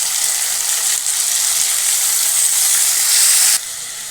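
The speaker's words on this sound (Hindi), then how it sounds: "हम नहीं डालेंगे, हम टमाटर डाल देंगे इसके जगह पर।" Tomatoes hit a hot pan with a bright, steady sizzle and hiss, loud and close, easing briefly near the end with no voices.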